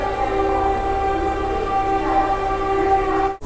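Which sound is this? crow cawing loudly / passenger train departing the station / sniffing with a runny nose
passenger train departing the station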